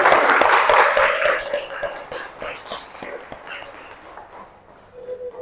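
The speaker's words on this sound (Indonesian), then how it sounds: "Tepuk tangan untuk Justina." Classroom applause for a student named Justina after her score is read out, a steady patter of claps loudest at first and fading, with voices murmuring underneath.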